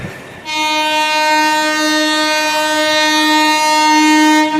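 A loud, steady horn blares continuously as the Thirukkural Express, hauled by a Vijayawada-based locomotive, passes close by in India, held for several seconds.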